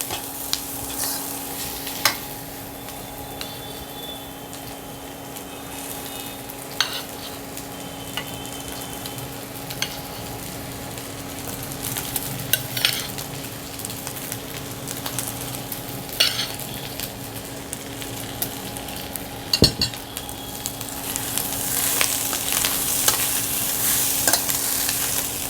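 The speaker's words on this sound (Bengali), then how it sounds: "এবার আমি দিয়ে দেব রসুন লঙ্কা দিয়ে মাখা ভাতটা।" Rice mixed with garlic and chili stirred and fried in a pan: a steady close sizzle with irregular scraping and clinking stirs throughout, no voices.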